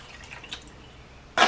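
Water is poured into a pot of Filipino afritado. A few faint drips come first, then a sudden loud splash of pouring arrives near the end.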